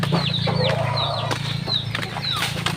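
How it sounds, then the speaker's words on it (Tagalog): Bisaya native chickens on a rural farm give short clucks and rising calls, repeated several times at close range over a steady low hum. "Bisaya na manok."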